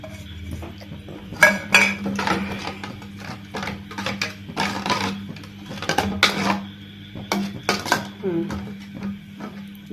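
Beaten eggs whisked in a bowl for an omelette, rapid irregular clinks and scrapes of a utensil against the dish, close and busy throughout, with a person talking over the sound in places.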